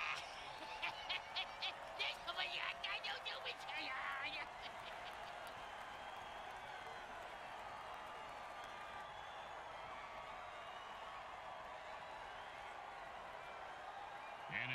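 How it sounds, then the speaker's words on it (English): Crowd cheering and applause from an American football video game, a steady broad roar of a stadium audience with bursts of clapping early on, continuing as a sustained wash of noise. "Crowd's loving it."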